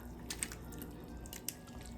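Thick omelet casserole mixture poured from a bowl into a greased 13x9 casserole dish, giving quiet, soft wet plops and a few faint drips, close up and without talk.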